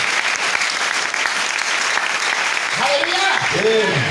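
A church congregation applauds in a dense, continuous wash of clapping throughout, with a voice calling out over it near the end.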